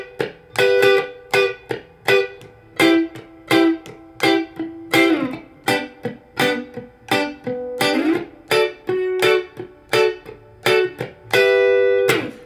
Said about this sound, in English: we're just going to do a super quick crash course in reggae music and how you can kind of use a guitar to really get the gist of it